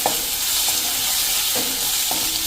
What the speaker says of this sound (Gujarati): અને એને આપણે સહેજ કૂક કરી લેશું આ રીતે તેલમાં